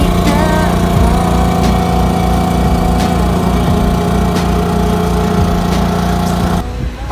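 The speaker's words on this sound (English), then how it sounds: "I know that it's loud because I have the AC on" An RV air conditioner runs with a loud, steady mechanical hum and drone throughout, faint periodic clicks, dropping off slightly near the end.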